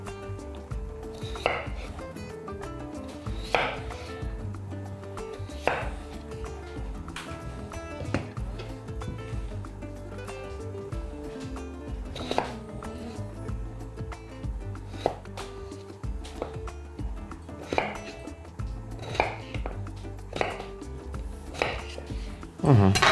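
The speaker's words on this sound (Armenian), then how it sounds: "Կարտոֆիլը շատ մանր չեմ կտրատի, բայց մեծ էլ չեմ թողնի" A knife chops potatoes on a cutting board in irregular sharp knocks, fairly quiet and close, with occasional soft kitchen clatter between strokes.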